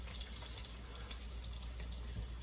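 Liquid dripping and splashing in a kitchen while a corn dip is being mixed, a steady close watery patter that fills the whole stretch with no talk.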